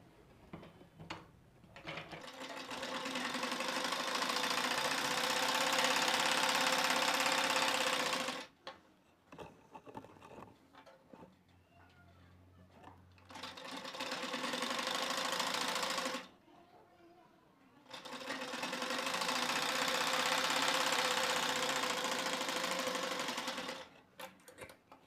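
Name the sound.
sewing machine stitching a frill blouse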